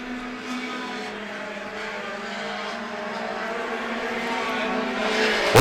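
Mini stock race cars circle an oval track, their engines blending into a steady distant drone that swells gradually louder toward the end as the pack approaches.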